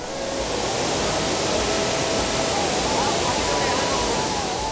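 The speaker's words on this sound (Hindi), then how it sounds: "ऊंचे पहाड़ों से गिरता पानी पर्यटकों के मन, मस्तिष्क और आत्मा को शांत कर देता है।" Tirathgarh waterfall in the Kanger Valley of Bastar, one of India's highest falls, with water plunging from high cliffs as a loud, steady, unbroken roar and a faint voice underneath.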